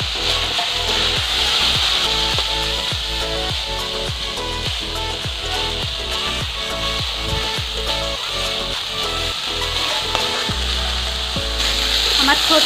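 Food fries steadily in a pan, giving a loud, continuous crackling sizzle throughout with repeated rhythmic scraping or stirring strokes.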